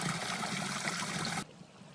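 Steady broadband rush of a mountain stream flowing nearby on a hiking trail, continuous and fairly loud, then dropping away abruptly near the end.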